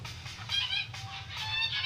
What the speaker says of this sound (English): Is that a goose army?